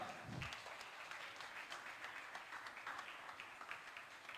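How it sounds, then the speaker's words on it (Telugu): Applause from a church congregation at a Sunday School candle lighting service, a faint, steady wash of clapping that continues evenly through the whole stretch. "గట్టిగా చప్పట్లు కొడదాం."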